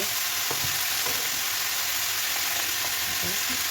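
Onions fry in a pan with turmeric and salt, a dense, steady hiss of sizzling oil broken by a few faint spatula scrapes, with no talking.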